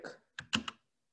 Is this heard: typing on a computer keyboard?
yes